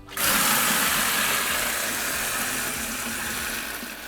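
Water bursting out of a water heater's opened drain valve, a sudden loud hiss and rush that starts abruptly and keeps pouring steadily, easing slightly toward the end.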